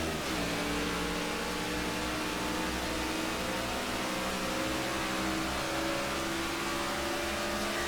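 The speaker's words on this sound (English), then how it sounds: "going back green flag racing after an unexpected caution" Race cars in NASCAR '14 accelerating at a green-flag restart of the Coke Zero 400, a dense, steady engine roar with rising revs filling the whole stretch, loud and continuous.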